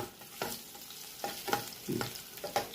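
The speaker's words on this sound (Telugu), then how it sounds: "సన్నగా తరిగిన వెల్లుల్లిపాయలు వేసుకొని వేయించుకోవాలి" Finely chopped garlic fries in a hot pan, giving a light sizzle broken by several short scraping stir strokes at an uneven rhythm, close and fairly quiet with no speech.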